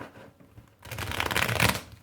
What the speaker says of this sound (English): I can riffle shuffle it, and I can overhand shuffle it